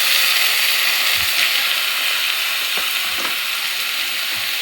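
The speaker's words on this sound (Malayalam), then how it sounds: "തക്കാളി ആഡ് ചെയ്തിട്ട് തക്കാളി നല്ലപോലെ ഒന്ന് വഴറ്റി കൊടുക്കുക." Tomatoes sauté in a hot pan, a steady loud sizzle with a few soft stirring scrapes and knocks scattered through, close by with no voices.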